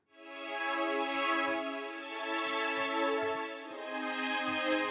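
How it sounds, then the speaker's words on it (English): A soft, sustained synthesizer pad holds a smooth, steady chord with gentle swells, faint and alone. "Nothing special, just a very basic pad sound."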